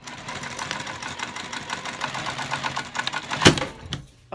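A sewing machine runs steadily while stitching a seam on a vinyl toiletry pouch, giving a rapid, even mechanical whirr close by. It ends in a sharp crack and then a sudden stop.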